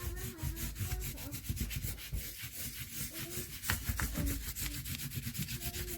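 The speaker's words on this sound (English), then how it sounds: "So I'm going to go ahead and rub these." Crayon rubbed briskly over leaves laid under paper, a continuous fast scratchy back-and-forth scraping, close and fairly quiet, with no voices.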